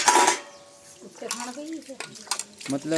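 Dishes, pots and pans are washed by hand at an outdoor spot, with clattering metal and splashing water loud at the start, then softer scraping and clinks under a voice speaking intermittently.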